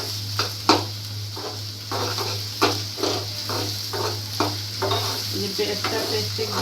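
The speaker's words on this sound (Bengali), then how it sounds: "পেঁয়াজটা আমি ভাজবো" Onions frying lightly in a pan for a spiced chickpea curry, a steady sizzle broken by repeated scraping stirs of a spoon against the pan, close and continuous with a constant low hum underneath.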